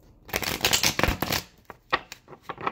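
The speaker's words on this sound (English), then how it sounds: "One more shuffle." Tarot cards shuffled by hand at close range, a quick riffling burst followed by several shorter flicks and taps, faint and alone.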